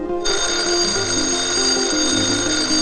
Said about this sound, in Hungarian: A munkába indulókat ébresztő órák csöngésével egy időben